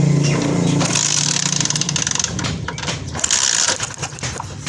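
A Honda CD 70 motorcycle being kick-started, with loud mechanical clatter and a rough engine-like roar close by, fading somewhat midway and then rising again.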